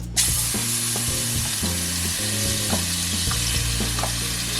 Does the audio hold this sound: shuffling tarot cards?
no